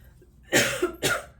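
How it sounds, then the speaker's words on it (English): Two short, harsh coughs close up, one right after the other, in an otherwise quiet room. "Interesting, I coughed right during that"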